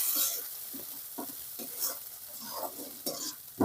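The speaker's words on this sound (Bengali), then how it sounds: "মশলাটা সুন্দরভাবে কষাতে হবে যেন মশলা থেকে তেল ছেড়ে দেয় সেইভাবে কষিয়ে নিতে হবে" Spice paste for potol dolma sizzles in hot oil while being stirred and scraped in a pan, with quiet, irregular scraping strokes over a steady frying hiss.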